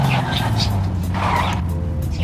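BMW M3 GTR braking hard in Forza Horizon 5, tires skidding and squealing over a loud, steady engine drone, with a voice talking over the game sound throughout.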